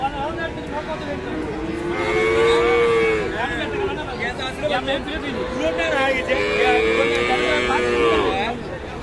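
Friesian and crossbred bull calves at a cattle market moo in two long, loud bellows near the listener, over a steady murmur of crowd chatter and market noise.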